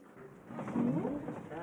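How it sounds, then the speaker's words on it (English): A faint, distant thunder rumble rolls beneath a soft voice or melody, low and muffled rather than sharp. "And the thunder wasn't loud enough."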